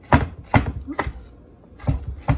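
A knife mincing smashed, peeled garlic on a cutting board, giving five crisp, evenly spaced chops close up with short pauses between them.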